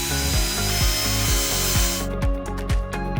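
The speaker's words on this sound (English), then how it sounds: "Flip the unit over, loosen all screws on the back" Power screwdriver loosening the back-panel screws of a BLUETTI Elite 400 power station, a steady motor whine with repeated pulsing bursts as each screw turns, close and loud with no talk.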